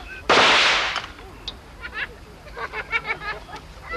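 Akha hunters test their guns in the jungle: a single loud, booming shot rings out near the start and echoes briefly, then gives way to scattered murmuring voices in the background.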